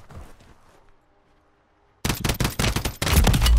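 Call of Duty gunfire bursts in after a quiet moment, rapid loud automatic shots crackling in quick succession, growing heavier toward the end.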